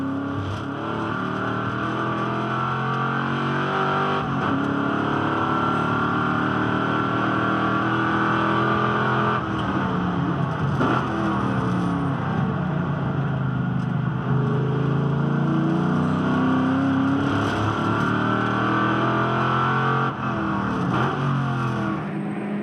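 Onboard a V8 Ute race car at Hidden Valley, the V8 engine roars loud and close for the whole stretch, rising and falling through revs and gear changes with no speech.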